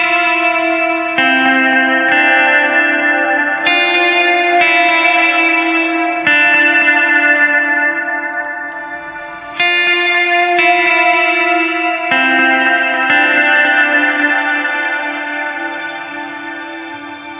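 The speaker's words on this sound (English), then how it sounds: "it's a much more traditional kind of guitar sound, just with lots of reverb and echo" Electric guitar chords played through a TC Electronic Hall of Fame 2 reverb pedal, each sustained chord blooming into long reverb and echo tails that overlap and slowly fade, clean and alone.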